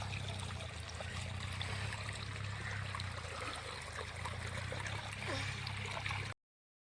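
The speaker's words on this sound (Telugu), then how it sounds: "ఇక్కడ నాన్న నీళ్ళు వదులుతుండు" Water streams and trickles steadily from a pipe, a continuous close gush with a low hum underneath, ending abruptly.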